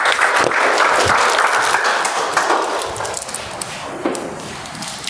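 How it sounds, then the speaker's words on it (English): Sustained applause from an audience in a hall, dense and steady for most of the stretch before thinning slightly toward the end. "Round of applause, guys."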